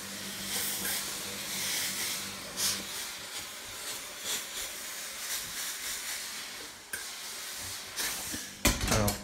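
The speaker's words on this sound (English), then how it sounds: "just give it a quick steam over" A handheld steamer sends bursts of hissing steam over creased fabric before it is glued onto bookboard, the soft spray rising and cutting off in short irregular puffs close by.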